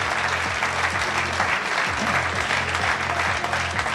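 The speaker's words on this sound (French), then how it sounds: "je vous demande de les applaudir très fort" A crowd at a table tennis team match between Loire Nord TT and Istres TT claps loudly and steadily for the players being introduced. Rhythmic music plays underneath the continuous applause.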